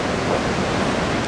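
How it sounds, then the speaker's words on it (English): Athabasca Falls in the Alberta Rocky Mountains gushing down in a loud, unbroken roar of falling water, a dense, thundering rush close by. "Water is gushing down. You can feel the thunder. You hear the thunder."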